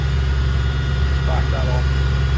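Twin Volvo Penta KAD300 marine diesel engines, 285 hp each, aboard a Birchwood 370 Commando cruiser, roaring steadily at about 2300 RPM with a loud, constant low drone, while a voice speaks briefly over it.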